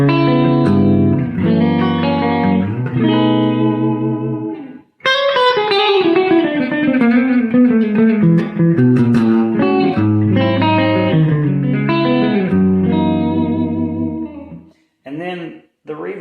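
Electric guitar played through a Quilter Aviator Cub amp on a Fender-style setting with reverb, a loud, close run of chords and ringing single-note lines with a brief pause partway through, played alone.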